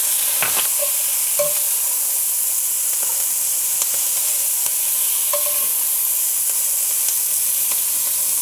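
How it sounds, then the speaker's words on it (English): Chopped onions sweating in hot oil in a pan while birria elk tacos are cooked, giving a loud, steady sizzle and hiss with a few brief stirring clinks and scrapes. "We want to sweat those onions down to get that soft and translucent."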